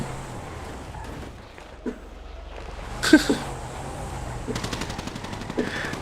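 Bursts of rapid automatic gunfire in a competitive team shooter video game match, with loud clustered shots in the middle and more rattling fire shortly after, over a low steady background.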